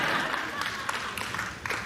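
Thin, scattered applause for a political speech, with a few sharp claps standing out from a muffled, moderately faint crowd wash and a voice underneath.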